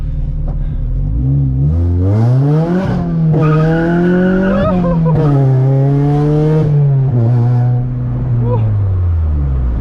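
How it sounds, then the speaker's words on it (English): A K24-engined Honda Civic pulls hard in first gear, its engine note climbing loud and close, dropping briefly and then rising again through sustained high revs, with the roar filling the whole stretch. "Let's just do like a first gear pull"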